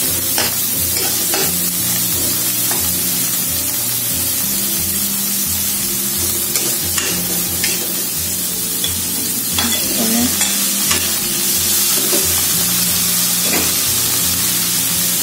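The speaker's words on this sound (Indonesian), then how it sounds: "Kita tumis." Capcay vegetables and shrimp stir-fried in a hot pan, a loud dense hissing sizzle with scattered spatula clinks and scrapes over a low steady hum, close up.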